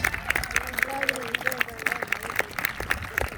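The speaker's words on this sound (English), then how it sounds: "But a round of applause for our knights." Scattered audience clapping for jousting knights at a tournament, crisp claps dotted throughout and heard under a speaking voice and crowd murmur.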